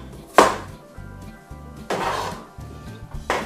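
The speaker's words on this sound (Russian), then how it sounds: "Пока сковородка нагревается, я порежу картошку." A knife chops potatoes into cubes on a board, with a few distinct knocks spaced unevenly and quieter thuds between, close and clear, while a pan heats nearby.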